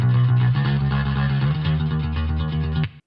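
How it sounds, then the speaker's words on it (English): Guitar played through a chorus-flanger effect on a Loudstakk TRVE RIG amp simulator, sounding as a loud, sustained, shimmering distorted tone with a steady rhythmic pulse that cuts off abruptly at the end. "Just have it on the chorus flangey one."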